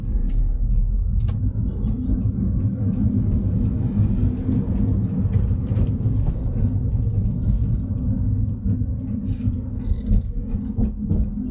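Congested road traffic heard from inside a car, a steady low rumble of engines and tyres with scattered faint knocks and clicks, no voices.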